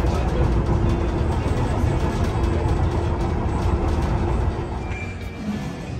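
Docklands Light Railway train in London running, a steady loud rumble of wheels and motors throughout, easing slightly toward the end.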